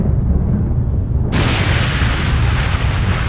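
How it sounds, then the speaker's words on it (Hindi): A deep, continuous rumble of thunder with lightning rolls on steadily at night, loud and low, with a sharp rise in hiss partway through like a heavy crack overhead. "आसमान में बिजलियां कड़क रही थी।"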